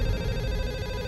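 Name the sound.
telephone ringing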